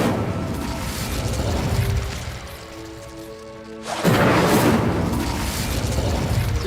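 An Incendio fire spell is cast in Hogwarts Legacy: a rumbling, whooshing burst with a tonal hum, easing off briefly before a second loud flaring rush of fire.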